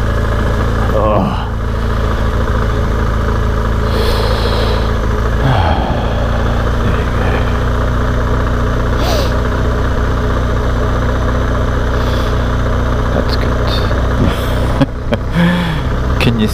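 A BMW GS motorcycle engine running steadily while ridden through mud, a loud continuous low rumble with slight revving variations and occasional splashes or knocks, no pauses.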